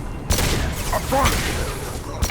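Mass Effect 2 combat on the planet Illium, with a few sharp gunshots and blasts in quick succession. A voice is heard among them.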